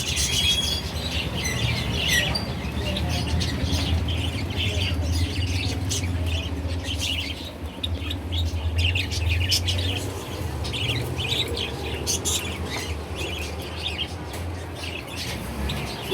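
Many small birds chirp, tweet and squawk continuously in a pet bird shop, with pigeons among them, a dense chattering chorus over a steady low background rumble.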